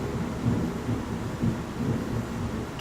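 Thunder rumbling outdoors with rain: a steady low, rolling roar with a few swelling pulses, heard at moderate distance beneath a hiss of rainfall.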